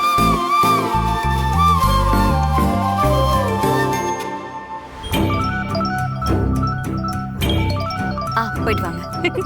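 A phone ringtone plays a bright chiming melody that keeps repeating for several seconds, loud and close, with a voice speaking over it now and then.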